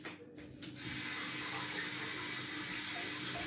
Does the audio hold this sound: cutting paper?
no